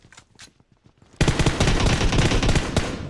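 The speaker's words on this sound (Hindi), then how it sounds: "कौन मार रहा है, कहाँ मार रहा है, क्यों मार रहा है।" Sustained, loud automatic gunfire erupts in PUBG Mobile after a quiet stretch of faint, scattered sounds, with rapid overlapping bursts that continue to the end.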